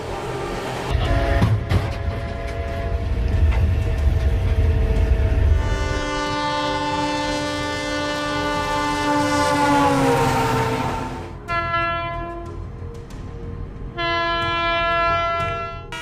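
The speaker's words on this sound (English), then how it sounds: "When you hear this horn, you can also gauge the speed at which the train is running." A train travels at speed, over 60 mph, sounding a loud sustained multi-tone horn in long blasts with a brief break, its rumble underneath as it passes close by.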